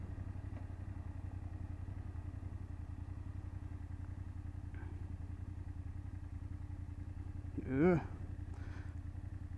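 A 2024 BMW F800GS motorcycle riding along, its steady mid-pitched engine drone continuous throughout, with a brief grunt from the rider near the end.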